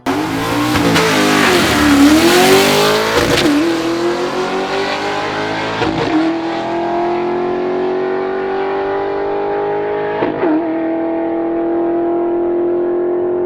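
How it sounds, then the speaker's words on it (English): A manual Holden VZ Commodore LS V8 runs hard down a quarter-mile drag strip, its engine climbing loudly through the revs with sharp dips at each gear change, then holding a sustained high roar. "You don't actually see many guys drive the car manuals this hard, but kind of run decent numbers."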